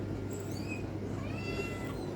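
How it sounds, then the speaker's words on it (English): Faint, thin meows from kittens come through a steady low hum, several brief high cries scattered across the stretch with no one talking. "Come on, little city cat."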